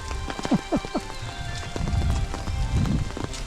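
Rain falls steadily on the Shikoku pilgrimage walking trail near the Misaka pass, a constant hiss of drops with a few brief nearby knocks and rustles early on, fairly close and continuous.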